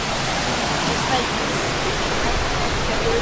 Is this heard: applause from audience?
no